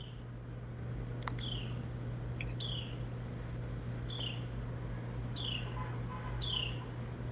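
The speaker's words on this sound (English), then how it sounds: "I hear birds." Faint, brief bird chirps repeat every second or so outdoors over a steady low hum and insect-like hiss, somewhat distant, with no talking.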